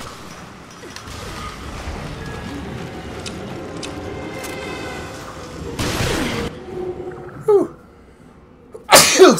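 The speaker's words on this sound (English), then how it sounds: "Had to sneeze." A man sneezes sharply during a casual gaming podcast about consoles. The loud, abrupt burst comes near the end over a low, steady room background, with a shorter noisy burst a few seconds earlier.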